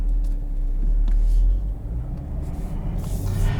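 A 2020 Chevrolet Camaro LT1 with an automatic transmission driving in sport mode, a steady low engine rumble heard from inside the cabin, with no one speaking.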